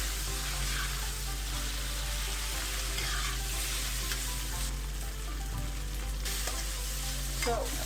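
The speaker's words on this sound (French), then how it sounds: "Mélangez bien jusqu'à ce que les nouilles soient bien cuites." Pad thai noodles stir-fry in a pan, a steady loud sizzle with scraping and tossing of the noodles as they are mixed, and no talk.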